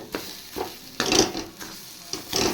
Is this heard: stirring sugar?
yes